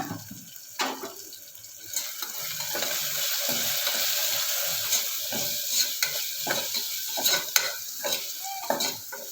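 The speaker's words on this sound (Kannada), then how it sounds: "ಇದನ್ನ ನಾವಿವಾಗ ಚೆನ್ನಾಗಿ ಫ್ರೈ ಮಾಡ್ಕೊಳ್ಳೋಣ" Garam masala and spices fry in oil for plain kushka. A crackling, hissing sizzle carries through, with repeated stirring scrapes and clinks of the spoon close by and no speech.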